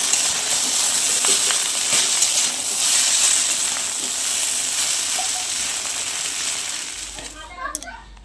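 A pot of boiling rice gives off a steady, fairly loud hiss of steam that fills most of the stretch, with faint kitchen clinks. The hiss thins out toward the end, where brief speech-like sounds come in.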